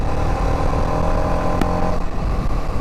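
A TVS Apache 310RR sport motorcycle engine drones steadily while riding, with a loud, continuous rumble and wind noise throughout.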